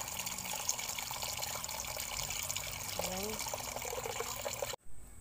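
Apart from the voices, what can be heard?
water poured into cooking pot with pork bones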